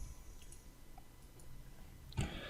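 A single crisp computer mouse click on an OK button lands sharply near the end of an otherwise quiet, faintly hissing stretch.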